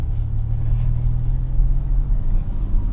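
A 2026 Ford Ranger Raptor truck drives over a gravel parking lot full of potholes, a steady low engine and road rumble heard from inside the cab.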